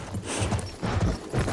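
Horse hooves gallop in the Battlefield 1 video game, a fast, loud, close rhythmic clip-clop drumming throughout the short burst.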